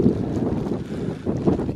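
Gusty wind buffets the microphone in low, rumbling bursts on a rainy Scottish Highlands hillside, steady throughout with stronger gusts near the start and again toward the end.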